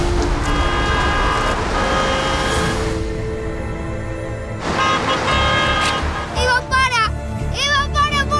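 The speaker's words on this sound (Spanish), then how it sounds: "¡Toque la bocina, toque!" A car horn honks repeatedly during a tense drive, loud, with engine and road noise throughout and panicked voices and someone shouting over it.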